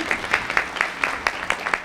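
Applause at a 1989 outdoor apartment press conference, heard as a run of evenly spaced, crisp claps in a quick steady rhythm, fairly close and moderately loud.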